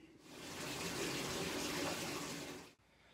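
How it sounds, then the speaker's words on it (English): Water turned back on surges through PEX plumbing fitted with SharkBite fittings, a steady rushing gush that lasts about two and a half seconds and then stops abruptly. "Now we're going to turn the water on and verify there are no leaks."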